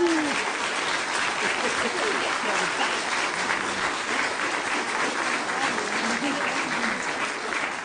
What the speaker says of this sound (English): You see, Patrick, the audience isn't clapping very loudly.